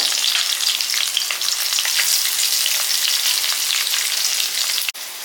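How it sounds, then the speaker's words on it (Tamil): Chopped garlic, green chilies and curry leaves fry in hot oil for a chapathi side dish, making a loud, continuous close-up sizzle that hardly varies. A single sharp knock sounds near the end. "வெள்ளைப்பூடு வந்து இந்த அளவுக்கு வந்து வதங்கணும்"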